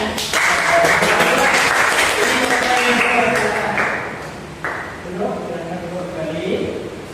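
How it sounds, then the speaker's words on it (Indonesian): Students in a classroom clap briefly at the start, under a teacher's voice that continues speaking over the room noise. "Ya, tepuk tangan dulu ya."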